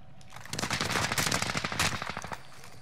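Enemy gunfire in a Warzone Rebirth Resurgence match crackles in a rapid burst of sharp automatic shots lasting about two seconds, fairly close and loud.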